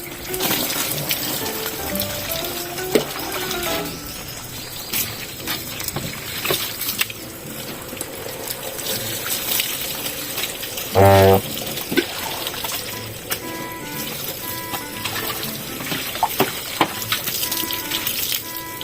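Water splashes and runs while a motorcycle is washed outdoors, irregular sloshing and spraying with a brief louder burst midway, while people chat nearby.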